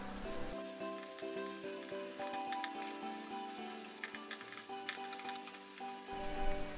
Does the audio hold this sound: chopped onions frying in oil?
yes